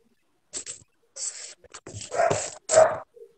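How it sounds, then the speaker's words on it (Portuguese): Dogs bark and yip indoors at home in several short bursts, moderately close, with quiet pauses between. "Eu sempre avisei que tenho cães em casa."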